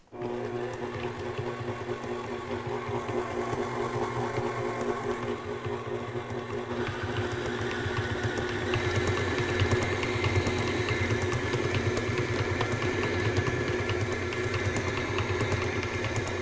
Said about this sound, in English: this bowl makes the mixer bounce around a lot more